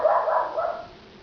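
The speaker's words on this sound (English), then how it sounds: "That's my dog barking." A dog barks indoors in a muffled, somewhat distant burst of a few quick yips that fade out, with no talk over it.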